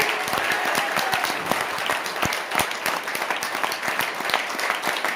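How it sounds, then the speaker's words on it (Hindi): Sustained applause from a crowd at a direct-selling seminar, dense and steady clapping throughout, moderately loud and fairly close. "तालियां बजाओ दम लगा के"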